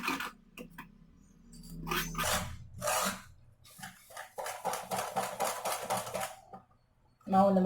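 Rice flour batter for neiyappam is mixed by hand in a bowl, with scraping, rubbing strokes in bursts and then a quick, regular run of stirring, close and separated by short pauses.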